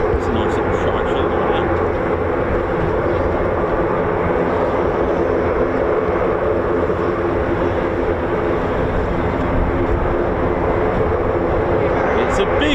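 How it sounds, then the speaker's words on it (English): Airbus A400M military transport aircraft taxiing at an RAF airbase exercise: a loud, steady turboprop roar that holds constant the whole time, with people talking over it. "the A400 is now taxiing."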